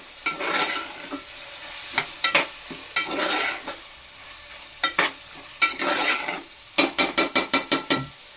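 Vegetables for pav bhaji sautéed in a pan, with bursts of sizzling and repeated scraping stirs, ending in a quick run of rhythmic strokes, near and moderately loud with no one talking.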